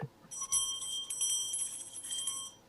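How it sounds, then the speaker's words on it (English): A Don Quixote bell rung during a live show to signal the end of a scene, giving a bright sustained ringing that lasts a couple of seconds and slowly fades. "with this lovely Don Quixote bell. That's right, Don Quixote bell. So when they hear this, the scene ends."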